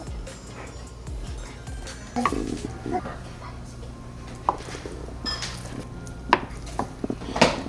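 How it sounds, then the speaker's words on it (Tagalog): Knife cutting tofu into squares on a board in a home kitchen, giving a few sparse, near knocks and taps against light background noise, with no talk. "Tapos itong tofu, hatiin nyo lang sa pa-square."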